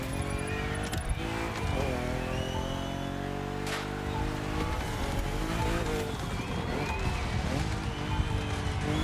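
A red rally car races in The Crew Motorfest video game, its loud engine roaring continuously with repeated tire squeals and skids as it is whipped through corners.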